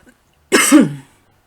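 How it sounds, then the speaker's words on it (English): A single short, harsh cough burst, close and loud, lasting about half a second, followed by silence. "Just had a bit of a coughing fit then."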